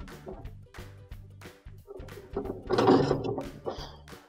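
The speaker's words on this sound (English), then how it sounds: "And now that it's loose, we can just spin it off" Plastic blower wheel on a Maytag dryer being spun off its shaft by hand, giving a run of light rattling, ratcheting clicks that swell to a louder scraping burst midway, close and alone.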